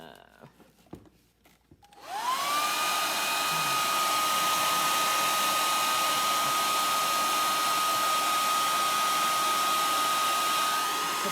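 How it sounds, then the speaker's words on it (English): A hair dryer switches on after a quiet start and runs with a loud, steady whine and rushing airflow, blowing on poured paint over a rock. "Although I do have my hair dryer here, so I can dry this."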